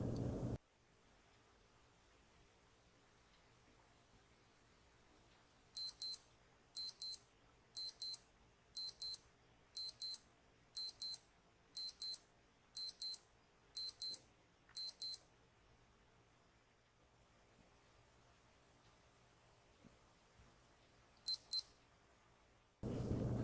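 A Casio G-Shock GA-2110SU-3A wristwatch sounds its alarm as a series of about ten evenly spaced, bright double beeps, then after a quiet gap gives a single short hourly time-signal chirp, close and otherwise silent.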